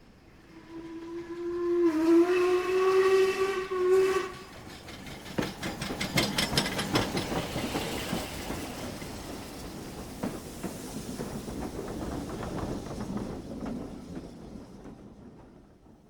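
A steam locomotive whistle sounds in a long sustained blast for a few seconds, followed by the rhythmic chuffing and rumble of a steam train running along the rails, steady and moderately loud.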